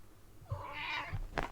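A house cat lets out a drawn-out, wavering meow at close range, starting low and rising into a whiny middle, followed by a short second cry at the end, with faint indoor background hiss.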